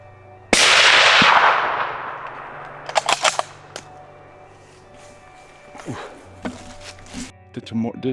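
A single loud rifle shot rings out while hunting fallow deer in England, with a long rolling echo fading afterward, followed by nearby rustling and handling sounds and a voice.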